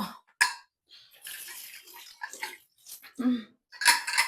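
A pressure cooker lid is handled and set in place in a home kitchen, giving a few sharp metallic clanks and scrapes with soft clattering between them, close and fairly loud, with no talk.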